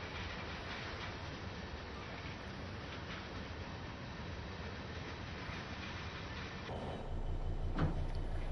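Intermodal freight train on a UK route in Train Sim World 5, a steady rumbling run with faint rail clatter and a louder low swell near the end, no voices.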